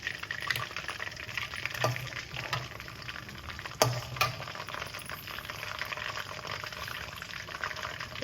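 Five or six broken dry red chillies frying in hot oil for drumstick pickle, a continuous bubbling sizzle with occasional spoon clicks against the pan, steady and close without talk.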